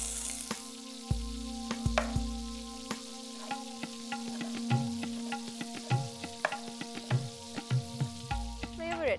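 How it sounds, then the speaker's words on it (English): Onions sizzle in hot oil in a pan, a continuous crackling fry with scattered clicks and knocks of stirring, close and steady. "So now I'm just heating the onions up so that they cook."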